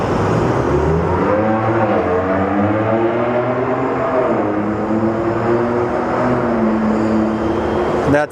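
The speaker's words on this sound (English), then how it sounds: "That sounds like somebody driving a older Porsche. Sounds like a boxer engine" An older Porsche with a boxer engine drives past near an airport, giving a loud, steady engine drone that rises and falls slightly in pitch for several seconds.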